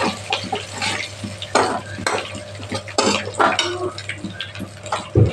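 Dried red chillies frying in hot oil with bay leaf for a prawn curry, a low sizzle under repeated stirring scrapes and utensil knocks against the pan, close and fairly loud, with no talking.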